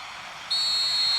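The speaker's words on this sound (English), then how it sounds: "Referee's had a look, and he's blown his whistle for half-time." Referee's whistle in an eFootball match signalling half-time, a single sharp sustained shrill blast starting midway and held to the end over faint crowd ambience.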